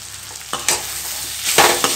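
Guava chutney with coriander, jaggery and salt is stirred in a pan on the stove, a few close scraping strokes over a frying hiss.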